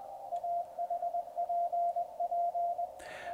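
Morse code beeps from a QRP Labs QCX ham radio transceiver kit: a single clear pitch keyed on and off in short and long bursts, fairly faint, ending with a brief click.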